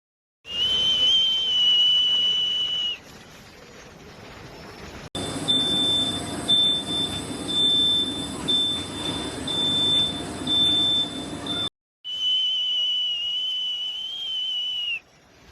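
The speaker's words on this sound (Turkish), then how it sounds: "fabrikada ıslıklar, kornolar çalındı" Shrill, sustained whistles blare in long bursts at a Ford factory workers' protest, with a stretch of mixed whistling and honking against a noisy crowd background.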